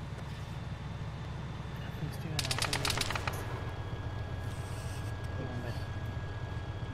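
A short burst of rapid gunfire in an Arma video game, shooting at players, rattles out over steady vehicle-like engine rumble, mid-distance and brief.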